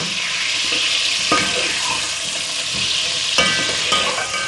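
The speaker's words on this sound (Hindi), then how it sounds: "इतना तलना है कि गोश्त का थोड़ा सा कलर चेंज हो जाए" Mutton frying in a pot sizzles in a dense, steady hiss, with a couple of sharper scraping stirs breaking through near the close.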